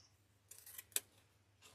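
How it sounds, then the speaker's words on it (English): Scissors snip directional ribbon for a snowman swag: a few close, crisp cuts separated by brief quiet, with the sharpest snap at the end. "let me cut that at 14 inches"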